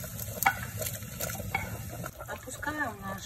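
Fried vegetables are tipped from a frying pan into a pot of vegetable soup, giving a soft sizzle, scraping and liquid splashing, with someone talking over it.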